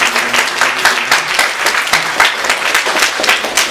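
Steady applause from a church congregation during a Sunday service, many hands clapping densely and continuously throughout, fairly loud and close.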